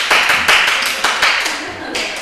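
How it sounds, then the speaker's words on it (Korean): Several rounds of group clapping in a Korean civil law lecture class, welcoming latecomers, bursts of many hands applauding loudly and close, separated by short pauses. "늦게 오는 사람마다 전부 다 박수를 쳐가지고 맞이를 합니다"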